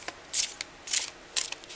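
A small Mesquite Tarot deck is riffled in three quick, crisp bursts of card shuffling, close and clear, with short pauses between them and no talking.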